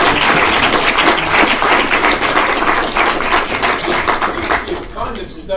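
Audience after a talk on garden villages and the housing crisis bursts into applause, a dense, loud, sustained clapping that carries steadily through the whole stretch.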